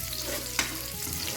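Shallots fry in a pan of hot oil, a dense continuous sizzle with a brief scrape of stirring partway through, close and with no voices.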